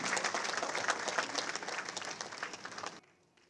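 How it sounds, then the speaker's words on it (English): A crowd at a ceremony applauds with steady, dense clapping for about three seconds, then it stops abruptly into near silence. "please welcome them with your warmest applause"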